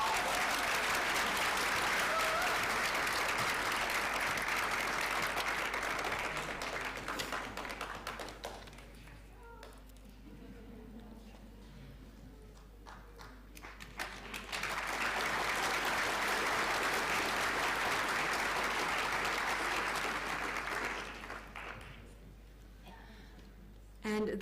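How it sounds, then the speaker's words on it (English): An audience applauds graduates at a Class of 2021 ceremony, with loud sustained clapping for several seconds, a quieter stretch with some talk, then a second long burst of applause before it fades. "please give all our graduates another big round of applause"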